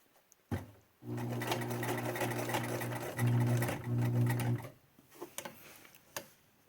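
A sewing machine stitching fabric masks runs in one steady, close, whirring stretch of about four seconds with a brief stutter midway, then stops. Faint handling noises follow.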